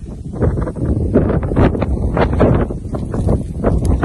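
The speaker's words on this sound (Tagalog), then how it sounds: "Malakas ang hangin." Strong wind sweeps over a cornfield and buffets the microphone in continuous loud gusts, with a dense low rumble and rustling throughout, no voices.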